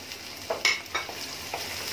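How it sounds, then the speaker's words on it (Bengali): Lightly steamed carrots, beans and chopped onion fry in a pan with a soft sizzle, broken by a few short scraping clicks as they are stirred. "গাজর বিনস আর পেঁয়াজ একসাথে ভাজা হয়ে গেছে"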